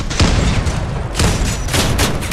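Cannon blasts in the Crossout vehicle combat game, two or three loud booming shots with heavy low rumble between them, close and forceful.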